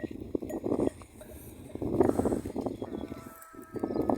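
Sheep bleating at a farm outdoors, several calls in a row at close range with some rustling between them, fairly faint overall.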